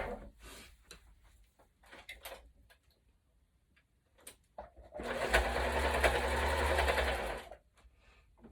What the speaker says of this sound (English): So I'm going to sew again right down these edges